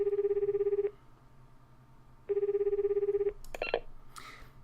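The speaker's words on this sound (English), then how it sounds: "After a single ring and a little electronic static, I hear the usual voice on the other end of the line" A phone rings twice in clean pulsing bursts separated by a pause, followed by short crackles of electronic static on the line, all fairly quiet.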